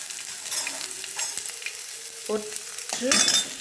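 Onion and curry leaves sauté in oil in a pan, a steady close sizzle with scraping stir strokes that pick up near the end, no voices.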